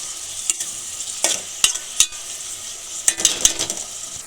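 Onions fry with salt in a pan, a soft continuous sizzle broken by several scraping stirs of a spoon against the metal, close and clear.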